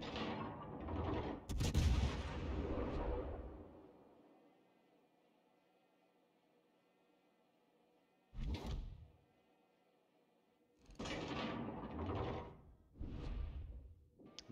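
Warship naval guns fire in the video game World of Warships, heavy booming salvos followed by long rumbling decays, then further separate bursts of shots, loud against near silence between them, with no talking.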